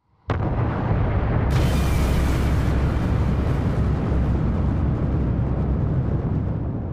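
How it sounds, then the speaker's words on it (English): A massive, sudden boom erupts and rolls on as a sustained, dense roar with heavy low rumble, loud and continuous. "The outer layers of the star slam down into it, and a huge explosion is generated."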